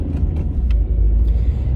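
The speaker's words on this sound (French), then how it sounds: "de retour dans ma voiture" Low, heavy rumble of a car cabin while driving, with steady road and engine drone and a few faint clicks or ticks over the top, no talking.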